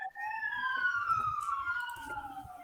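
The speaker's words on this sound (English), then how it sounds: "Somebody shut those goddamn sirens up." Several wailing sirens sweep and overlap, heard as a sound effect in a Cyberpunk Red tabletop game session, with a steady tone holding over faint low rumbling and background murmur.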